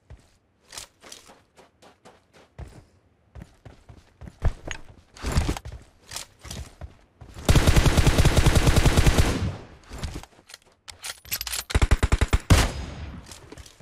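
Rapid gunfire in the game PUBG Mobile crackles in bursts, with scattered single shots early, a long sustained automatic volley in the middle and more bursts near the end.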